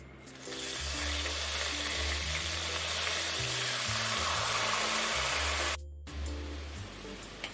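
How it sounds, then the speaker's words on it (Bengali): Whole garam masala spices crackling in hot oil for Bengali khichuri, a loud steady sizzle with a low hum beneath, cutting out briefly near the end before a quieter hiss resumes. "এবার ওই একই তেলের মধ্যে কয়েকটি গরম মশলা ফোড়নে দেব"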